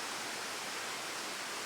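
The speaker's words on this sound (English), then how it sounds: "just above us is a waterfall" Waterfall in a valley full of falls: a steady, broad hiss of rushing water, even and unbroken, moderately distant with no other sounds.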